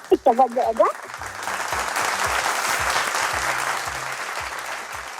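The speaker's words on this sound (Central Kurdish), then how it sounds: "کوا سەنە چەپڵەکانت گوێم لێ نییە" Audience applause swells and holds steady for several seconds after a brief burst of children's voices at the start, a broad wash of clapping with a faint voice beneath it.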